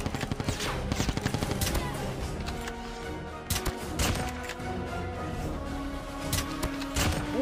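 Gunfire in the mobile shooter game Call of Duty Mobile, rapid bursts of automatic shots cracking in quick succession with sharp repeated reports and brief gaps, dense and continuous throughout.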